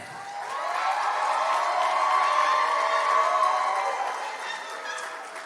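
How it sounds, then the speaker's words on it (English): A crowd at an 8th grade graduation ceremony applauds and cheers for the graduates, a sustained roar of clapping and shouting voices that swells to a peak and then fades. "Now let's give our incredible a big round of applause for the graduates."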